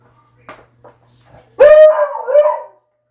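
A dog lets out a loud, drawn-out bark that slides into a howling whine, close to the microphone, after a few faint sounds.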